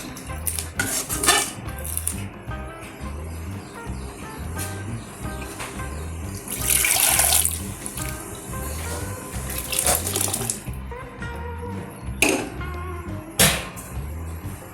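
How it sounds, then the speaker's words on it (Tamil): Water runs and splashes into a metal pot of radish sambar amid clinking of utensils and dishes, with intermittent louder pours and clatter nearby. "கொஞ்சம் தண்ணி சேர்த்துக்கலாம்"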